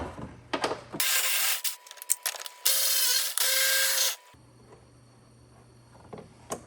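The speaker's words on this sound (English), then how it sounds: "your ratchet should fit right down in there. So let's get them loosened up" A ratchet works loose the 11mm side marker light bolts on a Grand Marquis or Crown Victoria, producing close, rapid clicking bursts in two extended runs separated by a short pause, with quieter handling noises before and after.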